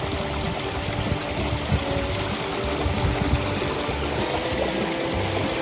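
The San Gregorio river near Characato, Córdoba, Argentina, flows at dusk in a soft, steady wash of running water, fairly faint and unbroken, with no voices.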